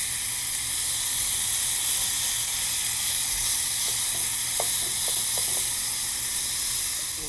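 Meat sizzling steadily in a Kutime nonstick pan for a Hello Fresh meal, a constant close hiss of frying with a few small scraping taps as the meat is moved.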